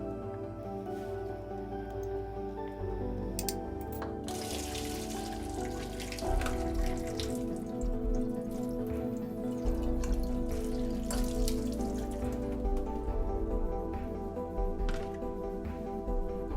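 Boiled carrots, corn and peas are tipped into a strainer, with water splashing and dripping steadily, close up amid a continuous background hum.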